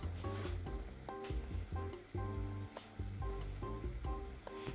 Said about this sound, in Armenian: Տապակված սխտորը հանենք